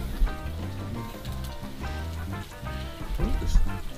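Butter and bread sizzling on a grill, a steady soft hiss and fine crackle that runs throughout, moderately close, with no talking.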